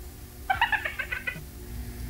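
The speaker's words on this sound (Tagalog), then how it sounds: "May pusa dito, sir." A cat meows once in a drawn-out, wavering call lasting under a second, close and fairly clear over a low steady background hum, with no talking.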